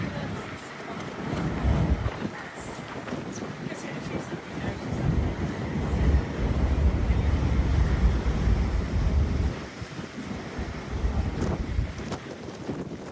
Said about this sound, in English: It's a bit windy this morning